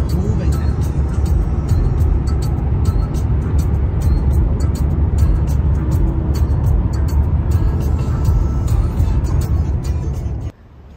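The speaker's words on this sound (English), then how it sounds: "Now we're on the highway and the traffic is moving now." Highway traffic moving, heard from inside a vehicle as a steady loud road rumble and tire roar that persists evenly before cutting off abruptly near the end.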